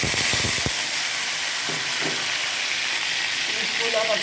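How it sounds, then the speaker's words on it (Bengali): Potato pieces fry in hot oil for a hilsa pulao. A steady, loud sizzle and hiss runs throughout, with a few clattering knocks at the start. "আলুটা ভেজে নিলাম।"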